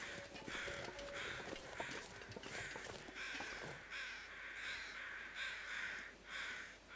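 Several crows caw over and over in the survival game The Long Dark, their harsh calls overlapping in the distance against steady wind-like ambience.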